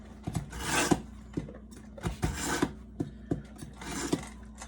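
A kitchen knife is drawn across a coarse sharpening stone in repeated rasping strokes, each a short scraping rub followed by a light tap, close and fairly quiet.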